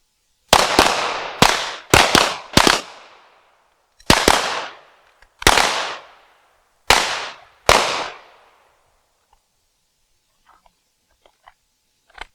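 Handgun fire on an outdoor shooting range during a women's pistol drill, a loud ragged series of about eleven sharp shots in quick bursts with ringing decay, then quiet with faint clicks and shuffling.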